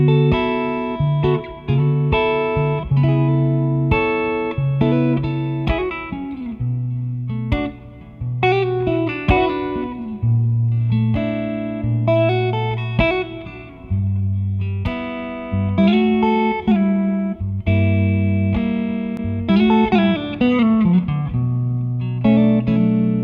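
Electric guitar played through a Tech 21 Fly Rig 5 reverb pedal set to a spacey, washed-out reverb, sustained chords and notes ringing and blending continuously, close and steady throughout with no talking.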